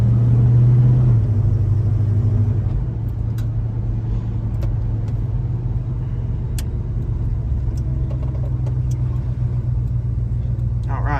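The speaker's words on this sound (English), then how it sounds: "Super awesome truck, and we're going to take it for a drive and see how it does." A 1972 Chevrolet Super Cheyenne truck engine rumbles loudly and steadily from inside the cab on a test drive, a deep continuous drone with a brief higher note at the start.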